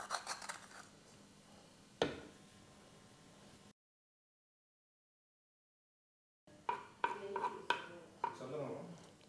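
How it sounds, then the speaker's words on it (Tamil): Cashews and raisins frying in ghee in a pan for village-style horse gram payasam, giving a steady hissing sizzle and one sharp clatter, then a silent gap before scattered metallic clinks and stirring scrapes. "முந்திரி பருப்பெல்லாம் நெய் விட்டு வறுக்கணும்."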